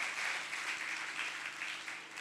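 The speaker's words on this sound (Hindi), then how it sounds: "जोरदार तालियां बजाइए, यीशु की सिताइश कीजिए।" A church congregation applauds in praise during a worship service, a soft, distant wash of many hands clapping that holds steady and fades slightly toward the end, with no speech.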